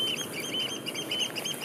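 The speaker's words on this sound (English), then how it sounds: "Lot of birds." A flock of geese and other birds calls with rapid honking and chattering, interleaved with a steady rustle of flapping wings, moderately distant and unbroken throughout.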